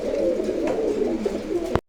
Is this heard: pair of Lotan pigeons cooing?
yes